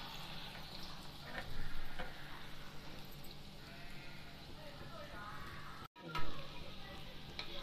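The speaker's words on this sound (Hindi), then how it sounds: "गोल्डन ब्राउन कलर की पकौड़ी तलनी है, जितना तेल है उसी हिसाब से पकौड़ी डालें पहले।" Urad dal pakoras sizzle steadily in hot oil in a home kitchen, a continuous frying hiss with a brief dropout and soft stirring sounds, while a person talks over it.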